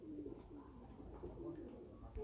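Pigeons on a rooftop coo softly and repeatedly, the low murmuring calls faint against a steady background hum.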